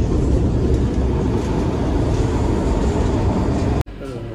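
Loud, constant rumble and rattle fill the cabin of a moving Vande Bharat express train, a dense roar that carries on unbroken before dropping abruptly just before the end.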